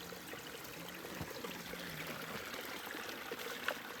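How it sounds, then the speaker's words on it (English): Spring water wells up from under a tree beside the Appalachian Trail in north Georgia, making a steady, close, gentle trickling burble that runs unbroken with no voices. "this cool water source that's springing from under a tree"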